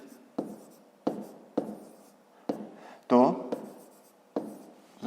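A pen scratches out a fifth-grade math solution on paper in short bursts, each stroke starting sharply and trailing off, about eight strokes spaced roughly half a second apart, with one brief voiced sound in the middle.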